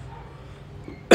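A single sharp cough bursts out near the end, loud and close, after a stretch of quiet background.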